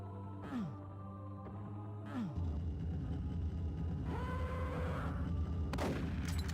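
Gunfire in a Doom WAD, a video game: a few sharp booming shots with descending whines and mechanical game effects, loud and close, ending in a bright burst.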